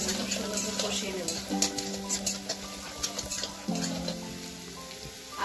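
Potatoes sautéing in a pan with salt, turmeric and a little coriander powder give a steady, close sizzle with soft scraping and stirring, while tonal voice-like sounds drift over the top.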